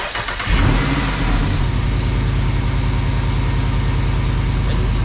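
A Jeep Wrangler 392 (2021–2024) with a newly installed hydraulic steering kit cranks and fires within half a second, then settles into a loud, steady, rumbling idle up close.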